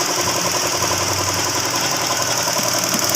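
A Mitsubishi Mirage G4 engine runs at a steady idle, giving a constant mid-pitched hum with a fine rhythmic knock and vibration. It is close and fairly loud, and no one speaks.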